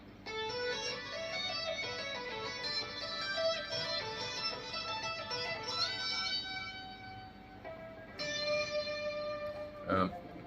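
A fast electric guitar tapping lick, a rapid run of high notes with echo that climbs and resolves onto a sustained D, played alone at moderate loudness and then repeated once.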